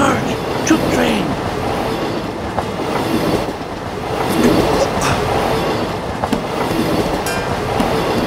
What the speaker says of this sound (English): Sarge, troop train!